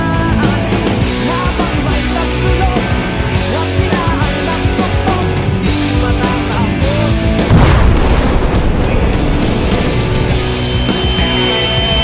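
A bomb hidden in a lamp explodes in a student short film, a low boom rising midway through under continuous loud dramatic music.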